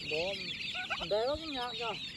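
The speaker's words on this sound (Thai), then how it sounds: "ลูกไก่งวงเนี่ย" Turkey chicks and other poultry on a rural farm, giving repeated high peeping and soft clucking calls in quick rhythmic bursts, close by and fairly clear, with faint background noise.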